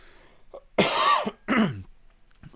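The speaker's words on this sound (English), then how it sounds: "I got nothing but productive coughs from here on out." A man coughs and clears his throat during a Magic Online Vintage Cube draft, two harsh, close bursts about half a second each, separated by a short gap, with quiet around them.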